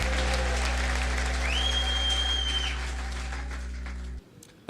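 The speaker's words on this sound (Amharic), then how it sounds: "አጨብጭቡ ለጌታ። ከዚህ በላይ ለጌታ አጨብጭቡ።" Church congregation clapping for the Lord during a prophetic service, steady massed applause over a sustained electronic hum and tone, cutting off abruptly near the end.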